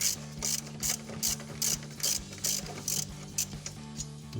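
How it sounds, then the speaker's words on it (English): A ratchet turns out thread-locked brake caliper bolts on a 2015-2023 Mustang, giving a close, steady series of about nine clicking pulls in even rhythm over a low mechanical hum. "Now these bolts will feel pretty hard to remove."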